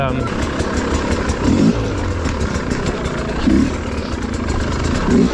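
A 2025 Sherco SE300 Factory two-stroke motorcycle being ridden, its engine droning loudly and steadily with periodic swells of revving, mixed with wind noise and occasional muffled speech.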